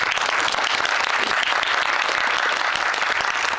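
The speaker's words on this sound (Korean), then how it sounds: "큰 박수 한번 보내주십시오." Dense audience applause at a cinema screening Q&A, steady and loud throughout, many hands clapping at once with no pauses.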